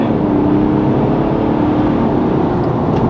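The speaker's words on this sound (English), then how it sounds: "And we want to go for it full throttle" A BMW 330d xDrive Touring with a tuned N57 diesel of about 411 bhp pulls hard at full throttle, a loud, close, steady low engine drone from inside the car, with no talking.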